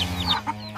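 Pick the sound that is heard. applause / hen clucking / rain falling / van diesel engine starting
hen clucking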